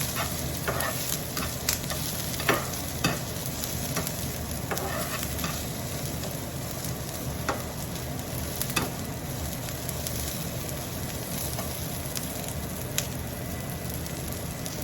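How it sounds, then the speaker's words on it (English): Fresh green curry leaves fry and sizzle steadily in a pan while being stirred, with light scraping clicks over the continuous hiss and no talking. "Then I'm going to stir it a little bit."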